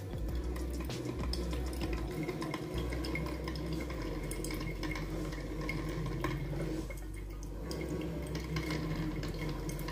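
An OTTO CM-025A coffee maker drips hot water through ground coffee, giving a continuous gurgling, trickling wash with a low hum underneath, steady and close, with no talking.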